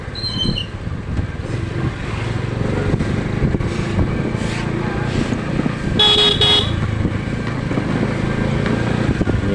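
Short toots from a small replacement car horn sound a few times over steady traffic and engine noise close by.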